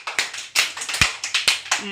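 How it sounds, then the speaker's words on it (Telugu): Young children in an Anganwadi classroom clap loudly together, a fast, slightly uneven series of crisp claps up close, with a brief voice near the end. "క్లాప్స్ కొట్టండి గట్టిగా"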